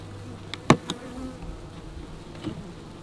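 Honeybees and drones hum around a hive in a northern beekeeper's yard, a soft steady buzz with a few louder close passes of individual bees near the listener.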